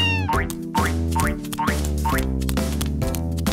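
A cat meows in a cartoonish, bouncy way, giving a string of about eight rising meows in a quick, even rhythm, loud and close with no talking.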